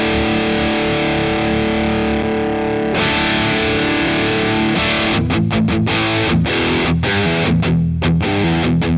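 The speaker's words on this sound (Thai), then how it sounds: "นี่เป็นเสียงครันช์ของแอมนะฮะ" Electric guitar played through the crunch channel of a Donner HUSH-X amp, loud saturated distorted chords ringing out and then choppy rhythmic strums, with no talking.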